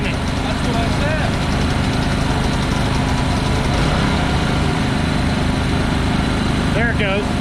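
A Ryobi 3400W inverter generator idles steadily with a continuous, even engine hum throughout, while people talk over it nearby.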